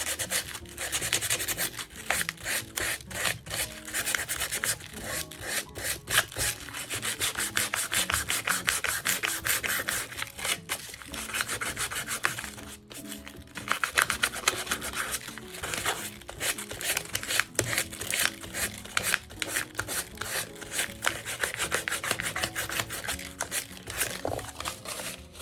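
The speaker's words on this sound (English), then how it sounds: "And then I'm gonna sand to get some of this image." Sandpaper rubs rapidly over a paper scrap to wear away its printed image, producing close, continuous scratchy strokes in a fast, even rhythm for the whole stretch.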